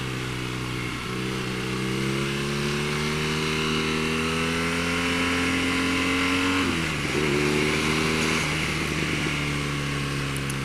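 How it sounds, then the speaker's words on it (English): A BMW R nineT motorcycle engine drones steadily on a demo ride with wind rush, its pitch climbing gradually under acceleration, dropping briefly at a gear change and then rising again, loud and continuous. "Don't be afraid to rev these engines."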